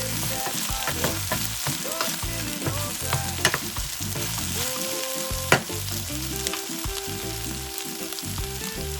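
Jerk sauce ingredients with Scotch bonnet peppers fry and brown in a pan, a strong continuous sizzle broken by occasional clicks and scrapes of stirring.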